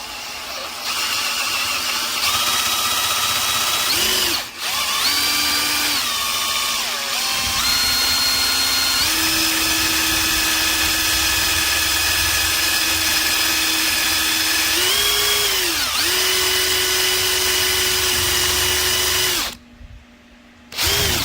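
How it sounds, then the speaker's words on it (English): A power drill bores out a rivet on a 2017 Mercedes C43 convertible, a steady loud whine that shifts pitch as the bit bites and the speed changes, cutting out briefly near the end before resuming. "I'm going to drill right in the center of that rivet."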